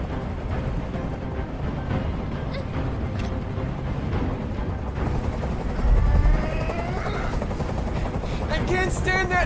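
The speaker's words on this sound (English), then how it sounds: "I can't stand that noise anymore. Tell that helicopter to get out of here." Steady helicopter rotor drone in the video game Detroit: Become Human fills the background, loud and continuous, with voices and game effects layered over it and a deeper thump near the middle.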